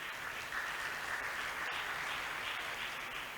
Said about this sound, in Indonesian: terima kasih tepuk tangan ya